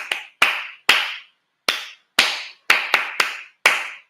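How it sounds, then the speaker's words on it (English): Nine or so separate hand claps, loud and close, in an uneven rhythm with short silences between them, during a digital marketing bootcamp session. "We clapping for you."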